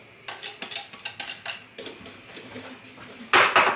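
A metal pot and utensil scrape and clink in quick rhythmic strokes, like whisking, while pudding is poured into boiling milk for a cheesecake, followed by a louder clatter of metal at the end, close and with no talking.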